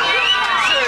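A crowd of about fifty people at a live breakfast TV broadcast cheering and whooping together, a dense, loud wash of overlapping voices sustained through a brief burst.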